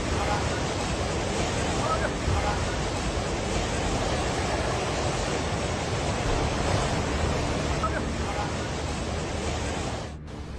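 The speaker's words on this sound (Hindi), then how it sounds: "पानी की लहरें बस्तियों को लीलने लगी" Flash-flood water in Nepal rushes in a loud, steady, unbroken roar that fills the whole stretch, close and without pause, like heavy surf or a torrent.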